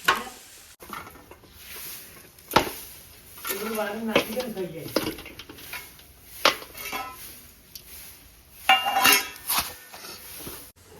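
Pieces of jaggery are stirred into water in a metal plate beside freshly washed old brass vessels, giving repeated metallic clinks, scrapes and clatters at close range, with a voice speaking briefly between them.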